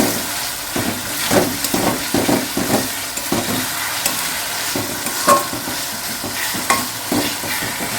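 Spices and tomato with salt frying in oil in a pan for South Indian chicken biryani, a continuous close sizzle broken by repeated scraping strokes of a spoon stirring, no talking.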